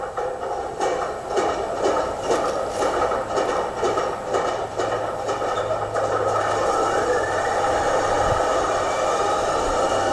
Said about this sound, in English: Good motor startup too.